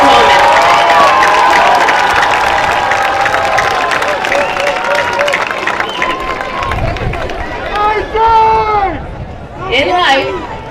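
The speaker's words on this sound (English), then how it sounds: "join me in giving them a round of applause for the support and encouragement they provided" A high school commencement audience claps and cheers for the graduates' families, loud and continuous crowd noise with whoops and chatter, tapering as a voice rises above it near the end.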